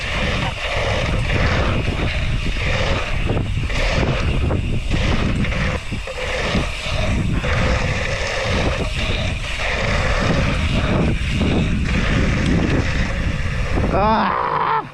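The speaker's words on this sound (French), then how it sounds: "le vent les gars, le sud bordel, le sud et le Mistral" A strong Mistral wind buffets the microphone outdoors at a BMX ride, a loud continuous roar with gusty surges and rumble lasting throughout.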